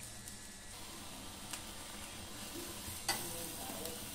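Tomatoes roasting and being turned with a fork give a faint, steady sizzle, with a few small clicks and taps as they are moved.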